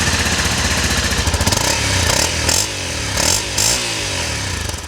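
Honda CRF 250 M single-cylinder motorcycle engine running close by, a steady buzzing rumble with a few brief rises in pitch and loudness toward the end.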